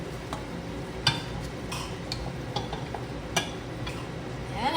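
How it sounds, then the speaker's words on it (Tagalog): Boiled vegetables being stirred in a pan, with soft scraping and light clinks of a utensil against metal over a steady low sizzle, a few sharper taps scattered through. "hahaluin lang natin siya dito"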